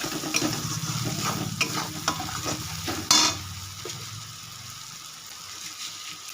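Ground coriander and cumin sizzle in a pan for lentil and egg kofta, with repeated scraping stir strokes and one sharp metallic clank midway before the sizzle quietens.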